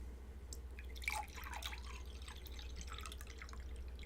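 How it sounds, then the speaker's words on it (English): Water pouring into a glass or sink, a continuous trickle with dripping splashes, faint and steady against a low background hum. "I'm gonna pour some water."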